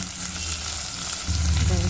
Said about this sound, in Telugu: చూడండి ఇప్పుడు కొంచెం ఫ్రై అయ్యాయి